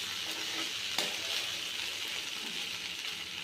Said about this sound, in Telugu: బాగా వేగుతుంది